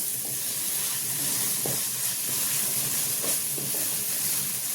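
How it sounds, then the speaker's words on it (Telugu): Onion and ginger fry over high flame in a pan, giving a steady loud sizzling hiss with a few scraping stirs of a spoon, close and alone. "ఇలా బాగా ఫ్రై చేసుకోవాలి"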